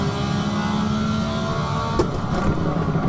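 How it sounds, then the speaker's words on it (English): Ferrari 312T Formula 1 car in Assetto Corsa holding a high, steady engine note, then a sharp crackling break as a gear is missed, loud and close with no talk. "You miss a gear in these cars and it makes it sound like a cat when you walk on its tail."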